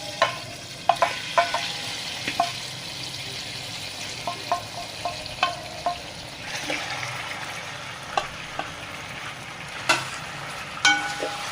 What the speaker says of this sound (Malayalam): എണ്ണ വെച്ച് ചൂടായി ഇതിൻ്റെ അകത്തേക്ക് ഷാലോ ഫ്രൈ ചെയ്ത ചിക്കൻ ഇട്ട് കൊടുക്കുന്നു.